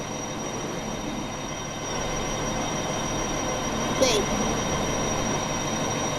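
An Indian Army train runs along the track with a steady, loud rumble throughout and one brief high squeal partway through; a voice speaks a single word over it.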